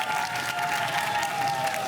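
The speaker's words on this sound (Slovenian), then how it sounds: "En aplavz za obe ekipi." A school audience at a quiz competition claps for both teams, with sustained, fairly loud applause and a faint steady tone underneath throughout, and no speech over it.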